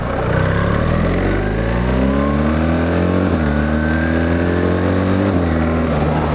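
BMW XM climbing through automatic gear shifts under hard acceleration, a loud, steady engine note that rises in pitch, drops at two distinct shift points, then climbs again, close and alone without voices.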